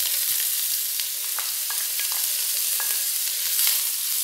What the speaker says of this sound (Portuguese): vamos deixar fritar até começar a ficar douradinho